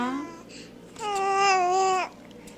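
A baby girl coos and babbles close by in a quiet room, with a short rising vocal sound at the start followed by a longer, steady sung-like coo.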